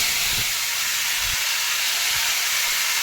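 Chopped tomatoes land in hot mustard oil with whole five-spice and bay leaf, producing a loud, continuous hissing sizzle with a few low thumps in the first seconds.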